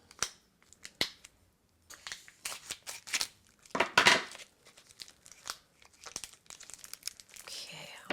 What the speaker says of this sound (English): I gotta get scissors to get it out